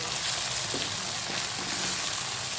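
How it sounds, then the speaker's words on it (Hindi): Sarson ka saag with green chillies sizzles in a pan as the tempering goes in, a soft, even hiss close by with faint stirring scrapes. "तो ये साग को तड़का लग गया है"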